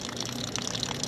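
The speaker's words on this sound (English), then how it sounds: "I can't really truly turn the water off completely" A kitchen sink pipe that will not shut off runs continuously, a close, steady hiss and gush of water with slight bubbling, no voices.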